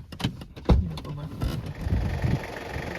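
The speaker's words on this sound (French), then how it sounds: "désolé pour le bruit de moteur" A car engine left running because it can no longer be switched off idles low and steady under a scene of clunks, rustling and muffled movement nearby.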